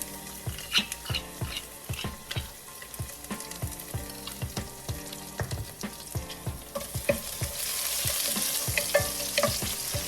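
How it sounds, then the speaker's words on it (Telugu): Crushed garlic fries in a pan with oil, a close, lively sizzle broken by frequent scraping stirs of a spoon against the metal, the hiss swelling louder toward the end. "వేయించుకున్నాక వెల్లుల్లిపాయలు వేసుకున్నాము. ఇవి వేగినాయి"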